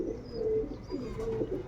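Pet pigeons coo in a low, throaty rhythm, with several rolling calls overlapping at close range and no speech.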